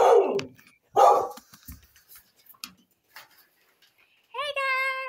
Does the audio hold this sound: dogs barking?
yes